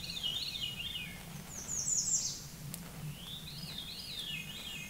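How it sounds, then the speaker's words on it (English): Veery singing in the woods along the Appalachian Trail, spiraling, fluty descending phrases repeated a few times at moderate distance over a low, steady outdoor hum. "You hear that bird? It's called a veery."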